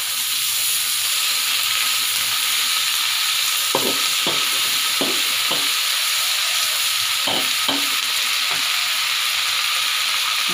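Water spinach stir-fries in a wok, a constant loud sizzle and hiss with a handful of sharp scraping stirs in the middle stretch, close up.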